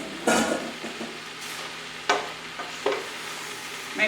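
Cabbage frying with vegan sausage, peppers and onions is stirred in a pan, with a soft continuous sizzle broken by a few sharper scraping stirs, close and unaccompanied by talk.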